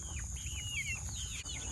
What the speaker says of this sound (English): Those are hens.